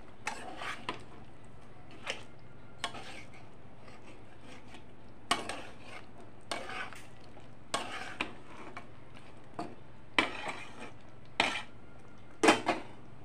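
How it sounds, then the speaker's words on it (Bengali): Intermittent scraping and clinking of a spoon stirring chicken into simmering masala in a pan for butter chicken, soft scrapes spaced a second or so apart with a few sharper metallic knocks, fairly quiet and without talk. "এখন আমি চিকেনগুলি দিয়ে দেব। দিয়ে ভালোভাবে নাড়াচাড়া করব।"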